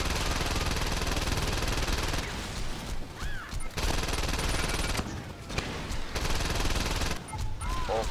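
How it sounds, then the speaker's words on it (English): Dense machine-gun bursts and fusillades rattle through a Saints Row 2 firefight, loud and continuous with brief lulls between volleys. "Oh god, there's bullets everywhere!"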